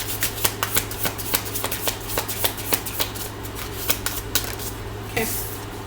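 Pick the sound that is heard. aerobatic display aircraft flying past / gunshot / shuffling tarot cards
shuffling tarot cards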